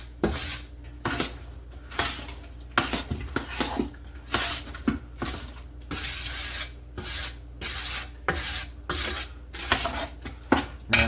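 A spoon stirs sugar melting in a pot for carrot cake jam, making repeated scraping and rasping strokes against the metal at an irregular rhythm, close up and with no talk.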